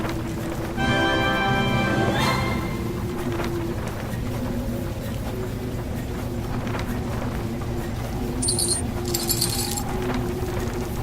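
A chain rattles in the adventure game The Book of Unwritten Tales: The Critter Chronicles. Clinking metallic jangles come early and again near the end, over a constant low, droning game background.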